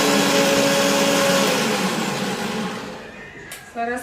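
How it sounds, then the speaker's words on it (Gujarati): A kitchen blender whirs loudly, crushing boiled spinach into purée, then slows and cuts off; a voice speaks briefly near the end. "પાલક આપણે ક્રશ કરી લઈએ છીએ"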